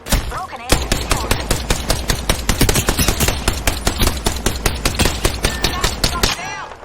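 Rapid, dense gunfire from the video game Apex Legends, a loud run of close automatic shots at a steady fast rhythm with brief pauses, continuing for several seconds.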